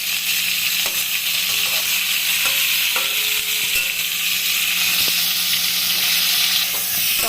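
Pointed gourd pieces fry in a pan with a steady, close sizzle and occasional light taps and scrapes of a spatula, no talking.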